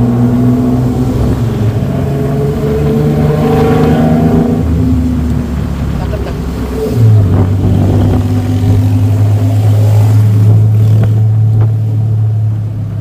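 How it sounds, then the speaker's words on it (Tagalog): A motorized tricycle on a Bangkok street at night runs loud and close for the whole stretch. Its engine note jumps lower and steadies about halfway through as it revs. "Ito ang tricycle na yun, yung ganyan, oh."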